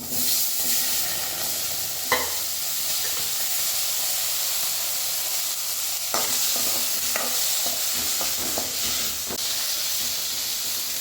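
Two chopped tomatoes and onions sauté in a pan for chutney: a steady, loud hiss and sizzle runs throughout, broken by occasional sharp spatula scrapes and taps. No one speaks.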